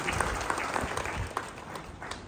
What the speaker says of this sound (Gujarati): આપણે ખૂબ તાળીઓથી આ તકે એમને વધાવીએ